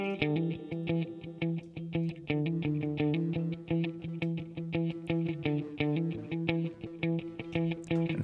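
Distortion from the Waves Manny Marroquin plug-in gives a gritty edge to a looping synth pattern of rapid, evenly spaced notes that runs steadily throughout.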